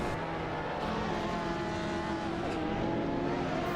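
Video game racing cars, including a Lamborghini Diablo SV and a McLaren F1 GT, roar along with sustained engine drone and shifting pitch, a fairly faint and continuous whine with no talk.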